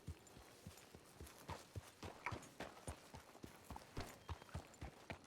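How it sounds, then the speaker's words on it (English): Horse hooves clip-clop steadily on the ground in Red Dead, a quick, even walking rhythm of close, crisp hoofbeats heard alone at a low level. "I put my horse away."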